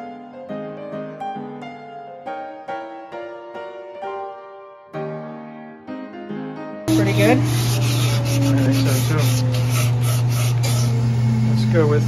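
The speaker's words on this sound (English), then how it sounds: "So now we're all dry and we're gonna start sanding." Melodic music plays first, then gives way to continuous close, loud rasping of sandpaper rubbing against a milk-painted wooden three-legged stool.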